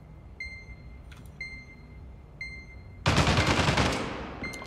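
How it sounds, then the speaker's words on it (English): Gunfire in a tactical shooter game, a loud burst of automatic shots crashing in near the end after quieter stretches of beeping interface tones and faint clicks. "Oh, they shot me from both angles."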